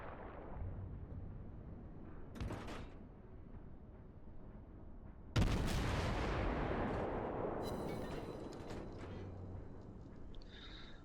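Naval guns in World of Warships boom in two heavy blasts, the second a huge close roar that slowly rumbles away, with mechanical clanks and a rising whistle near the end.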